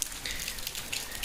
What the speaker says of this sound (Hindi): पीछे का कंडीशन कुछ ऐसा है, हल्की हल्की बारिश हो रही है।